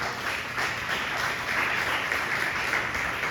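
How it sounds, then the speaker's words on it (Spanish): A church congregation gives a sustained round of applause, a dense even wash of clapping from many hands with no voices over it. "Den otro fuerte aplauso al Señor."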